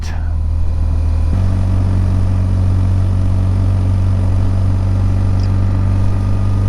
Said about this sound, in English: I'm using mainly engine braking, so I'm just tickling the rear brake every now and then